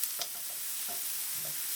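Onions frying in a heavy non-stick pan, a steady close hiss of sizzling with a few soft scrapes of stirring near the start, no voices.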